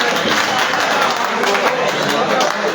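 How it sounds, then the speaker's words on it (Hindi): An audience applauds at a school farewell for a government high school principal, a dense, continuous wash of many hands clapping at steady loudness throughout. "नेपालपुर वाले अपने लिए तालियां बजा लो"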